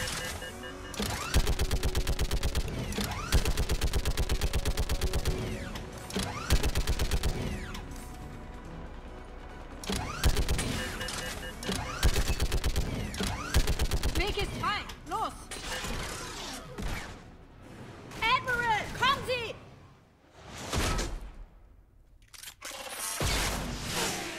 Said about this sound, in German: Das ist ja auch mal eine coole Sache mit dem Geschütz.